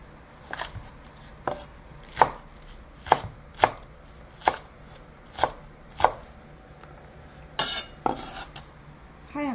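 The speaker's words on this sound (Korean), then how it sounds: "이제 야채를 한번 썰어 보겠습니다" A knife chopping vegetables, including green onions, on a cutting board for dried pollack soup, about a dozen crisp close knocks at an uneven pace with a quick burst of rapid chops near the end, no talk.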